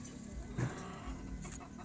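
Soft clucking from chickens nearby, a few brief calls over a steady low background hum.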